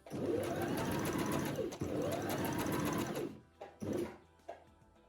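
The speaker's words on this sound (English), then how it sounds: "And here is the buttonhole foot doing its thing. It begins by creating a bar tack at the top of the buttonhole." Sewing machine with a buttonhole foot stitching a buttonhole, a close, fast mechanical whir in two long runs, then a pause and a few short bursts with clicks.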